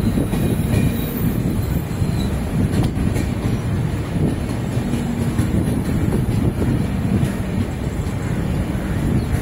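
A Circar Express passenger train on the Kakinada Port to Puducherry route rumbles along steadily with wheel clatter and faint squeals, loud and continuous with wind buffeting.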